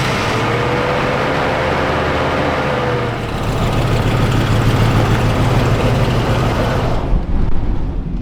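Vintage RV engine turns over and settles into a steady, loud low rumble, idling close by with a rise in level partway through and no talk.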